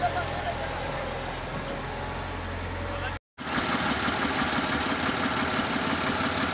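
A tractor's engine idles steadily in loose, mid-pitched chugging while hauling a trolley at an earth-digging site, running throughout apart from a brief cut near the middle.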